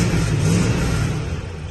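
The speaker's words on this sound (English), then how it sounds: "Possibly exhaust rattling there" A 1972 Rover P5B V8 engine runs loudly and close, a steady low rumble with a slight rattle that may come from the exhaust.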